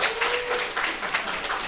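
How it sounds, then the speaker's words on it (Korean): Applause from a congregation during a Sunday church service, a short steady patter of clapping at moderate distance. "축복의 박수 한번 보겠습니다."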